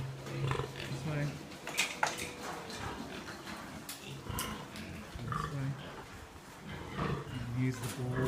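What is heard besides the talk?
pigs on a farm: sows, younger and older pigs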